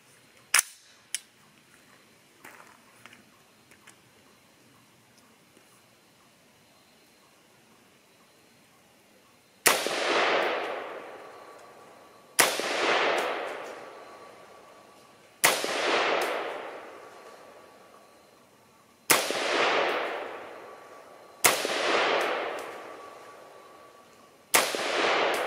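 Talon Armament Gryphon GAR-15 rifle fired offhand at an outdoor range: after a few faint clicks, six loud, sharp gunshots ring out at regular intervals a few seconds apart, each followed by a decaying echo.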